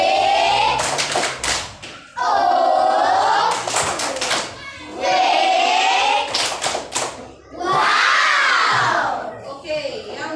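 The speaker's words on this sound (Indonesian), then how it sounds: "Tepuk wow dulu untuk kalian yang sudah menjawab." Children in an Indonesian-language classroom clap in sharp rhythmic bursts and shout a 'tepuk wow' chant together, with loud group voices rising between the clap patterns and short pauses separating each round.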